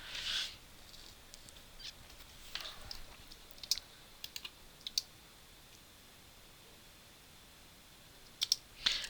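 Computer keyboard keys tapped during video editing, scattered sharp clicks arriving singly and in small clusters with quiet gaps, close and fairly crisp, no voices.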